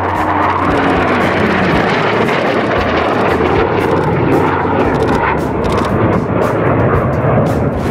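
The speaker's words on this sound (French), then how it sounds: "c'est l'endroit parfait pour enregistrer des avions qui survolent le sol à basse altitude" A low-flying aircraft roars overhead through a canyon, a loud, dense, continuous engine rush that fills the whole stretch with little change.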